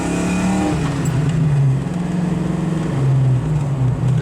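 A 1986 Ford Mustang Fox body with Flowmaster mufflers and tailpipes rumbles loudly and steadily up close, its exhaust note swelling and dipping through a couple of revs with no talking.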